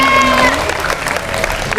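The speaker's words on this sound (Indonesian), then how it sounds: "Beri tepuk tangan dulu dong." Students at a school motivation session give a loud round of applause, a steady close wash of clapping with crowd noise and some faint tonal sound in the background.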